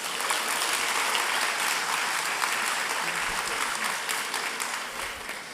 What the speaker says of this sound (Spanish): Qué buen momento para regalarnos un aplauso por tan linda profesión